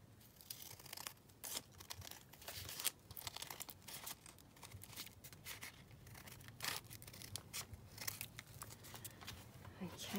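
Scissors trim book pages in a run of close, crisp snips and paper rustles, with a voice talking over parts of the cutting.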